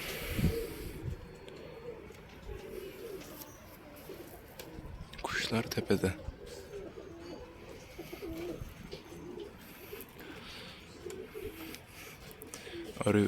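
Pigeons coo softly in low, repeated calls, with rustling and handling noises and a person speaking quietly nearby.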